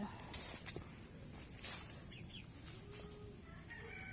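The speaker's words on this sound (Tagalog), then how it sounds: "ito yung manok ng kapitbahay na lumaki na dito" A chicken clucks and calls softly amid outdoor background noise, with a few brief sharper calls rising over a steady ambient hum.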